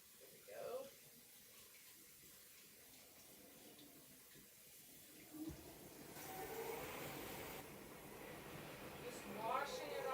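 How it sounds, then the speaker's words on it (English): A glass jar is rinsed under a running kitchen sink faucet, a steady splashing water stream that rises and grows fuller midway, close by, with a voice speaking over it. "Just washing it off in here in the sink."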